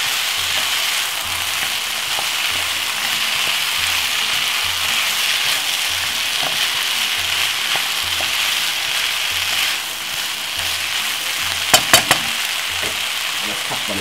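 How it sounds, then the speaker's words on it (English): Vegetable fried rice stir-fried in a pan sizzles loudly and steadily up close, a constant hissing fry with occasional scraping stirs and a few sharp clinks near the end. "Stir fry veggie rice,"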